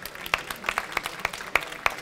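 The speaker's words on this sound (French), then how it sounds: "De grands applaudissements aussi pour Davy." A small audience at a photo show stage gives scattered applause, a handful of sharp, distinct claps spaced unevenly over a couple of seconds against a quiet background.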